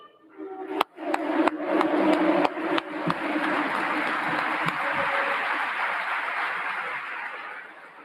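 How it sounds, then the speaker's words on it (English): An audience applauding to honor fallen soldiers and their families at an award ceremony, a few sharp claps swelling into sustained, dense clapping from a large crowd that slowly tapers. "Please join me in a round of applause to honor these soldiers, the fallen, and the families of Bulldog Troop."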